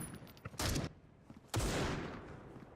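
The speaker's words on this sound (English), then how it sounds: "Gonna be taking another shot through the smoke" Two loud gunshots fired through smoke in the shooter game Critical Ops, a sharp blast near 0.6 s and a second at 1.5 s that trails off into a long decaying echo, with no talking.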